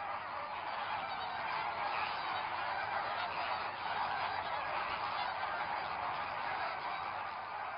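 A dense flamingo breeding colony of some 10,000 pairs on an island, calling continuously: a steady, loud wall of honking, goose-like bird calls with no pauses or talk.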